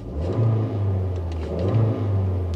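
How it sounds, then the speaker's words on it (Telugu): Maruti Ertiga with a 1.5-litre four-cylinder engine, heard from inside the cabin as the accelerator is pressed: a steady low engine hum that swells twice into brief revs, with no talking. "చూడండి స్టార్ట్ అయ్యింది ఇంజిన్ సౌండ్ క్యాబిన్ లోకి వస్తుందో లేదో ఒకసారి అబ్జర్వ్ చేయండి ఒకసారి యాక్సిలరేటర్ ఇస్తున్నా చూడండి"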